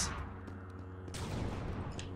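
Cannon fire in the LEGO Star Wars III: The Clone Wars video game, a heavy blast about halfway through rolling into a noisy boom over a low game rumble, with no speech.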